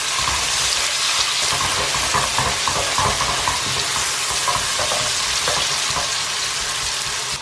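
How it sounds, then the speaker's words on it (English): Onions sizzle and crackle steadily in hot oil with whole spices, loud and close throughout, with occasional stirring scrapes mixed into the dense frying hiss. "As soon as that looks ready, about a minute or so, you go in with the onions."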